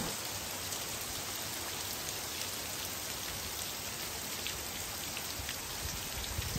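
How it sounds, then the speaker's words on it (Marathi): Heavy rain pours steadily onto surfaces, a dense even hiss with scattered close drops and no voices, continuous throughout. "असा पाऊस आला की मी धावत धावत परत आलो"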